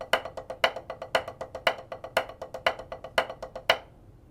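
Snare drum paradiddle played alone, with clear repeating groups of four strokes where each group's first note is accented louder than the three softer taps, steady and close, ending in a brief ring-out.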